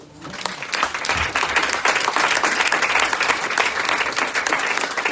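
A church congregation applauds the Lord together, a dense, loud and sustained clapping that swells quickly and holds steady, with a few voices faintly mixed in.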